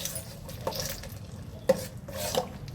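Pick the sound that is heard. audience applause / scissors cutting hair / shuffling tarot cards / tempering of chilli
tempering of chilli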